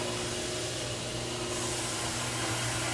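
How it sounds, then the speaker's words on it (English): Polishing wheels spin in a gun shop, giving a continuous broadband whirring hiss with a low motor hum underneath, steady and unbroken. "Look at all these polishing wheels."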